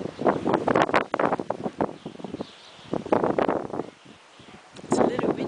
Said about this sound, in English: It's a little windy, wouldn't you say?